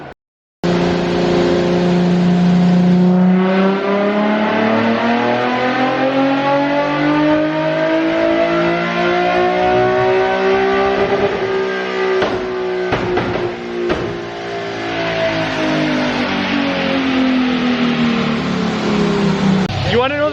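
A Nissan 350Z with a flame-spitting tune revs hard and holds high engine speed, a loud and close sustained drone that rises and falls in pitch, with a few sharp crackles partway through.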